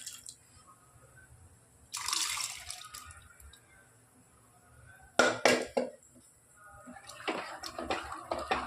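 Three bursts of cooked cowpeas and liquid sloshing and pouring into a pot, with a clink of metal between quiet gaps.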